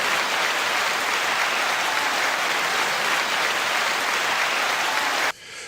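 Steady, dense applause sustained for about five seconds at even loudness, then cutting off abruptly near the end.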